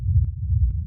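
A sidechained bass kick from a futuristic, textured techno track, with a heavy low-end thump pumping continuously through the whole stretch and two faint clicky transients cutting through. No voice is present.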